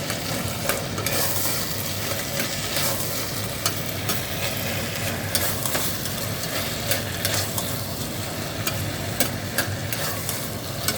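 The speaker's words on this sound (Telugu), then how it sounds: "పుదీనా, కొత్తిమీర 2 నిమిషాలు వేగిన తర్వాత ఇది కలుపుకొని మళ్ళీ 2 నిమిషాలు వేగించాలి" Vegetables frying in a pan with mint and coriander for biryani, a steady dense sizzle with stirring scrapes running continuously and fairly close throughout.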